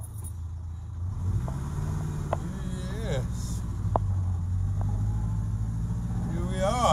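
A 70-year-old Morris Minor car drives along with a steady low engine drone throughout, while someone talks briefly over it.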